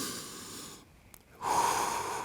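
During a plank exercise, a person draws one deep audible breath in close to the microphone, a brief airy rush within a short pause in the background noise.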